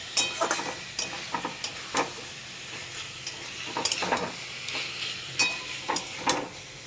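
Boiled chicken fries in a pan, with a soft continuous sizzle under repeated scraping stirs from a utensil, the clicks and scrapes coming in irregular bursts; nobody speaks.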